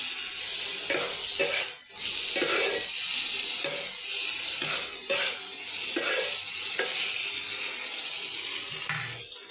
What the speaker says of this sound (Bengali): আর একটু লবণ দিয়ে সব কিছু ভালোভাবে নাড়াচাড়া করে দিলাম।